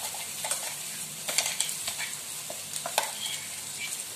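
Finely crushed green chili thecha sizzling in hot oil in a pan, with a steady, close crackling hiss and occasional sharp spatters and stirring scrapes throughout.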